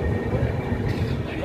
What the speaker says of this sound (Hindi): ट्रेन हमारी अब जा रही है